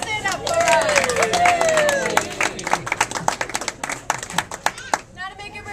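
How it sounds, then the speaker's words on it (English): Crowd clapping and cheering at a birthday gathering, lively applause with scattered voices and excited calls for several seconds, ending abruptly. "round of applause and see if she'll stand up for us."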